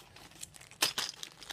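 A small plastic bag holding Lego fire pieces crinkles in a few short, crisp bursts, one sharp rustle standing out midway, fairly close and quiet with no talk.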